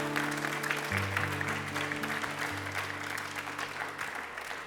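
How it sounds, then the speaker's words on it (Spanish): Church congregation clapping loudly during a sermon, steady applause over sustained low organ or keyboard notes. "Da un aplauso fuerte a nuestro Dios"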